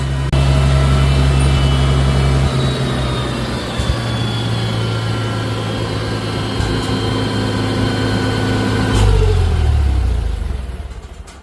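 A 1968 Farmall 756 tractor's gasoline engine idles steadily and loudly with a low, even rumble, then winds down and stops near the end.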